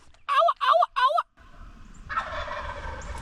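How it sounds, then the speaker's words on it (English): A wild turkey gobbles three times in quick succession on an early morning in turkey season. The gobbles are loud and near, followed by a steady outdoor background hiss. "I'm hearing a gobble"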